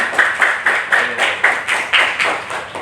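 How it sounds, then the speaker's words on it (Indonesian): A primary school class claps in unison, a regular rhythm of about a dozen sharp collective claps, evenly spaced and close, with no talking over them. "Tepuk tangan."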